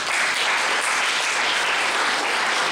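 Dense, sustained applause from an audience at a university political science workshop, steady and loud throughout with no pauses or voices breaking through.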